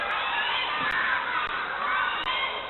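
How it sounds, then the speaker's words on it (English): A wrestling arena crowd cheers and shouts in a dense, continuous roar with a slightly muffled, older broadcast quality, loud and unbroken throughout. "the crowd still love him"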